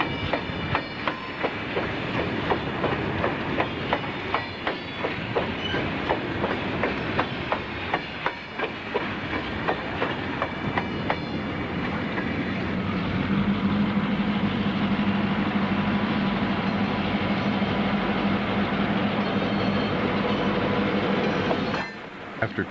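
Southern Pacific train rolling along the coast line, a steady loud rumble with rhythmic clickety-clack of wheels over rail joints, then a sustained grinding wheel squeal near the end, heard close with no talk.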